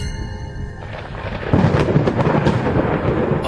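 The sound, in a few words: thunder before rain in a cartoon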